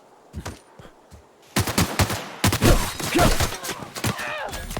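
Rapid gunfire in The Outer Worlds video game: a few scattered shots, then loud, close bursts of automatic fire crackling back and forth for several seconds, with faint voices underneath.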